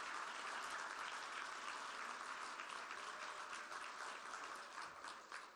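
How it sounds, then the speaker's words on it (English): An audience at a youth leadership awards ceremony applauds, a dense sustained wash of many hands clapping that tapers slightly toward the end. "let's give them one final round of applause"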